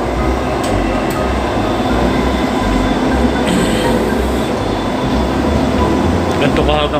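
Dubai Metro train ride between UAE Exchange and WTC stations: steady loud rumble of the car rolling on rails with faint wheel squeal and clatter, continuous throughout, with a passenger voice heard faintly under the noise.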